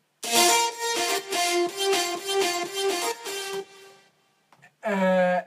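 A dirty, buzzy flute-like synth lead, a sine wave with iZotope Trash distortion, plays a rhythmic melody of repeated notes, then stops before one more loud note sounds.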